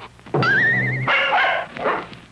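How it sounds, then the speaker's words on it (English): A dog barks and yips in a Gravy Train dog food TV commercial, giving a long, wavering howl-like bark followed by two shorter excited barks, close and loud with no talking. "snoopingest pup in the USA."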